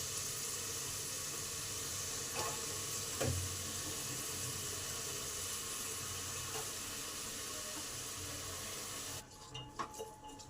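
Carrots and beans fry gently in oil in a pressure cooker over low to medium heat, giving a steady, even hiss that runs without a break, with a few faint clinks, before the sound drops away near the end.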